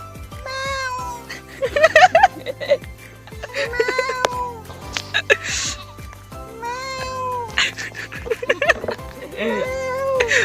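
A person voices repeated wavering cat meows, imitating a cat in rising and falling cries, loud and close, mixed with other people talking and laughing around them.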